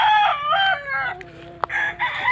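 A Boston Black gamefowl rooster on a game farm crows once, loud and close, in a short rising-then-falling cock-a-doodle-doo.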